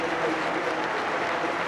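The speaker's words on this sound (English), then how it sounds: "Kinkladze is coming off to a standing ovation" An all-seater football stadium crowd gives a standing ovation for Georgie Kinkladze at a Wimbledon F.C. match, a broad, continuous roar of distant applause.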